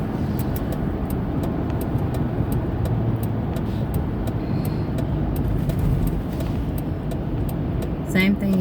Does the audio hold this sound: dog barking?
no